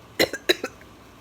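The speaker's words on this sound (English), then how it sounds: "because I've been coughing like that before coronavirus started" Harsh smoker's cough in two quick double bursts, close and fairly loud, each pair of hacks followed by a short wheezy tail, then quiet with faint room hum.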